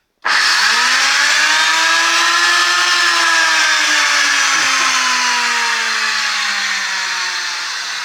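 A vintage German-made Bosch electric planer with two cutting blades starts abruptly and runs loud and steady with a high whine, its pitch drifting slightly as it keeps spinning.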